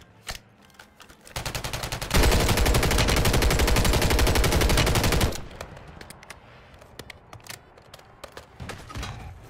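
Video game Warzone firefight: a few scattered shots, then a sustained loud burst of rapid automatic gunfire lasting several seconds, followed by sparser distant pops and cracks.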